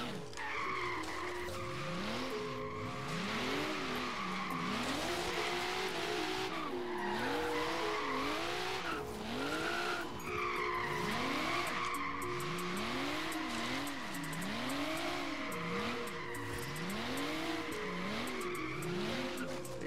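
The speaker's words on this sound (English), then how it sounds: "Right about now, I'm just freestyling drifting, which is actually kind of fun." Nissan 240SX with an RB26 engine swap, 457 hp, drifting in Forza Horizon 3: tires skid and squeal continuously while the engine rises and falls in steady repeated revving sweeps, loud and close throughout.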